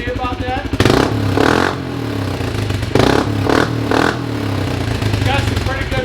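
A Kawasaki Brute Force ATV fitted with an aftermarket exhaust revs in several short, loud throttle bursts over a steady idle, close by, with a voice speaking between the blips.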